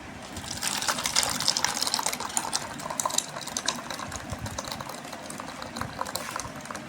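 Watermelon ice cream mixture poured into a container, a steady liquid gushing and splashing that swells early and then continues more softly for several seconds, with no talking.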